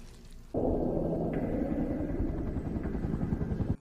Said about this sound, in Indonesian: Karena mendengar suara helikopter, dia pergi keluar dan meninggalkan lemari pendingin.